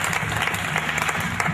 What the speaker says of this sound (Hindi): आप लोग तालियों के साथ अपने प्रिय कवि का स्वागत कीजिए।